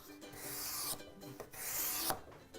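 A cabinet scraper drawn across a wooden workpiece to remove sanding grooves, giving repeated rasping strokes with short pauses between passes, close and steady.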